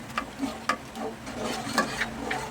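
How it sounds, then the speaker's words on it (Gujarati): A spoon stirs yogurt upma batter in a hot pan, giving soft, repeated scraping strokes over a faint sizzle, close and fairly quiet. "હવે એને સતત હલાવતા રહીએ"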